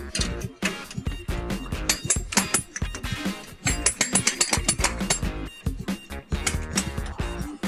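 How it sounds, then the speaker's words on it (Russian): A pipe bender works a copper pipe in place, producing close, irregular metallic clinks, clicks and scraping bursts in quick clusters with brief pauses between them, with no talking. "Берем трубогиб. И выгинаем эту трубу на месте."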